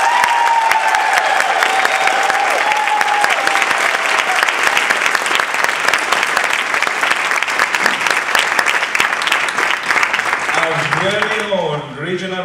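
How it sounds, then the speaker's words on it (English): An audience at a district spring conference table topics contest applauds, a dense, loud, sustained clapping that fills the whole stretch while a voice speaks over it near the start and again at the end. "please give them a round of applause"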